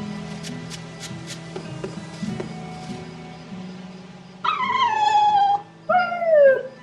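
Dogs in the video game Tales of Berseria whine and whimper with high, falling cries over a steady hum of game music, preceded by faint ticking taps.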